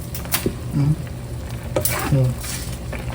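A spoon scrapes and knocks in a pot of boiling katmon fruit over a steady bubbling simmer, with a few clinks standing out close by.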